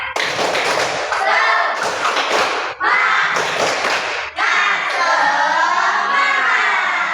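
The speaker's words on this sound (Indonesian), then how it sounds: "Mulai, tepuk semangat." A primary school class performs the 'tepuk semangat' spirit clap, children clapping and thumping desks in a quick rhythmic pattern while shouting along together, loud and close with short pauses between phrases.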